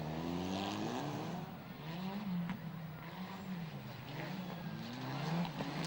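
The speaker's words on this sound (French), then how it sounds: "Andrej Jereb qui était au volant d'une Peugeot 207 Super 2000" A Peugeot 207 Super 2000 rally car driving, its engine droning steadily with rising and falling revs at a moderate distance, fairly faint and continuous.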